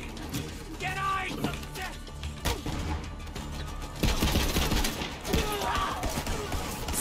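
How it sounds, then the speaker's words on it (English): Rapid gunfire rattles in Borderlands 3, a dense run of shots and mechanical clatter over game sounds, with a voice talking over the shooting throughout. "That is some solid shooting right there."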